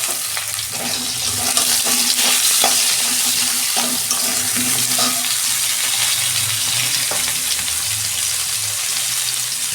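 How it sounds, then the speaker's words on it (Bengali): Potato and pointed gourd fry in oil, a loud dense crackling sizzle close by, steady throughout with recurring scrapes and knocks of stirring. "পটলটাও ভেজে নিচ্ছি ওর সঙ্গে"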